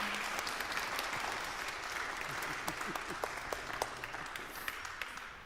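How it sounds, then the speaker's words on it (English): A church congregation gives a round of applause for Brian during a Season of Creation service, a steady bed of clapping with distinct sharper claps popping out near the front and faint crowd murmur beneath. "Can we give Brian a round of applause"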